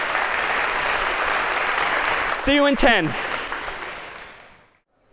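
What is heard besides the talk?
audience applause for volunteers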